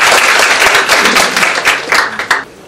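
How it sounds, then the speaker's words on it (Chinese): Audience applause greets a speaker at a Taiwan information security talk, a dense burst of close hand clapping that starts loud and thins out over a few seconds. "请大家掌声欢迎他。"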